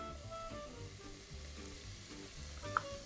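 Chopped garlic hitting peppers and onion already sautéing in a pan, giving a soft, continuous low sizzle with a single faint clink near the end.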